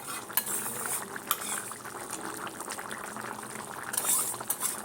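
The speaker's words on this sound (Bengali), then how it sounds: "এইভাবে দিয়ে কিছুক্ষণ ফোটাবো" A pot of shrimp with fried fritters simmers in a home kitchen, a steady low bubbling hiss with faint clinks of a utensil against the pot, continuous and fairly quiet with no voices.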